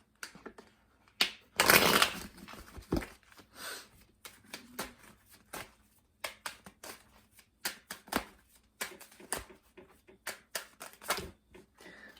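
Tarot cards shuffled by hand in a series of quick riffling bursts with a loud flurry early on, then scattered shorter slaps and rustles, close and clear with no talking.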